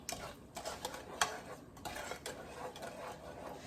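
A utensil stirs whipping cream into candied yams in a pot, making soft, irregular scraping and clinking taps, close and fairly quiet, with one sharper knock partway through.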